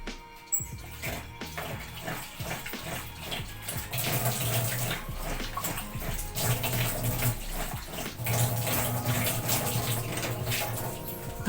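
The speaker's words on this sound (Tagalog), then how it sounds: "hugasan natin muna yung isda para mawala yung lansa" Steady running tap water splashes while fish is rinsed under it, a continuous watery rush that grows fuller partway through, with no talking.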